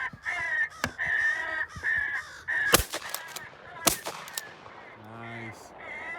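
Crows cawing during an evening crow shoot, a series of harsh caws scattered through the clip, punctuated by two sharp, loud shotgun blasts, with soft voices of the hunters in between.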